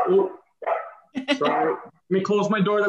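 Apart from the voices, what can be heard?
dog barking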